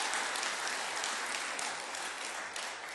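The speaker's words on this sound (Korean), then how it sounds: "우리 박수로 한번 환영하시겠습니다." A church congregation at a Sunday service claps in welcome, a soft, steady wash of applause heard at some distance, fading slightly toward the end.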